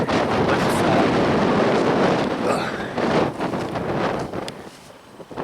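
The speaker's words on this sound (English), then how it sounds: "it's a windy day, and the wind's blowing towards the houses today" Strong gusting wind roars and buffets the microphone outdoors on an allotment, loud and continuous, easing slightly toward the end.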